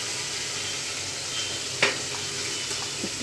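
Chopped onions go into hot oil already frying with cardamom and cloves, for a beef tehari, giving a steady soft sizzle with one brief louder splash partway through and no voices.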